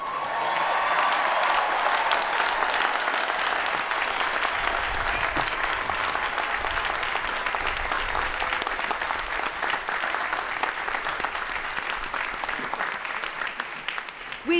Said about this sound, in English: I ask that all students graduating today stand and be applauded